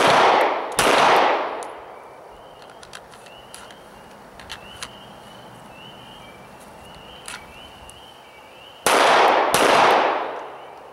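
Pistol shots ring out during the Todd Green press six drill on a shooting range, two sharp loud cracks at the start and two more near the end, with quiet outdoor ambience and faint chirps in between.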